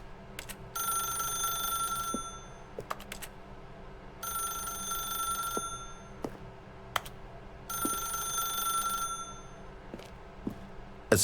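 A telephone in the video game The Stanley Parable rings in three separate bright, trilling bursts with short quiet gaps between them, plus a few faint clicks.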